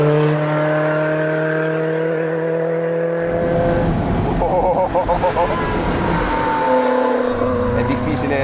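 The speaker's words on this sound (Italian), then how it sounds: "il rumore che fa il motore con il miagolio del compressore che si mischia al fischio della turbina" A Lancia Delta S4 Stradale engine idles with a steady hum, then revs up with a rising supercharger whine and turbo whistle, growling loudly as it accelerates.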